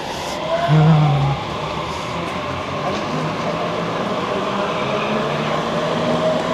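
A train in Budapest, Hungary rumbles past nearby with a steady rolling roar, a short high squeal early on, and faint metallic tones over the continuous noise.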